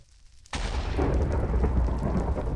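Lightning strike in the Minecraft modpack Agrarian Skies: a sudden loud crack sets off a sustained rumbling roar that fills the rest of the moment without fading, with no voices over it.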